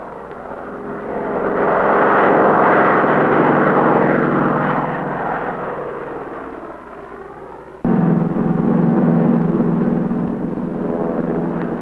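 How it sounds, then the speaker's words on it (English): A propeller crop-spraying airplane applying DDT drones overhead, its engine swelling louder then easing, with a sharp rise again as it passes close; no talking. "One large area completed, the plane moves on."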